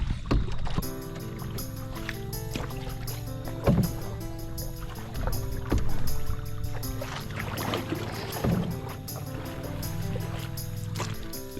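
A canoe is paddled on a North Georgia river, with steady splashing and water strokes in the foreground over a continuous low background bed, and a few sharper knocks around the four-second mark and later.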